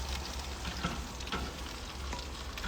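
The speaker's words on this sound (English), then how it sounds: "I'm going to transfer it to a cast iron pan" Aubergine sizzles and crackles steadily in a cast iron skillet, a continuous close frying hiss with faint stirring movements and no voices.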